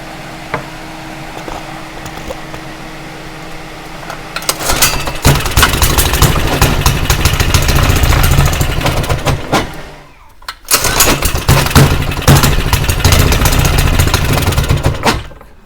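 An older Lifan 2.8 small engine with a bad carburetor, mounted on a Baja bike, fires up and runs loudly and roughly nearby, briefly cuts out, then restarts and keeps running.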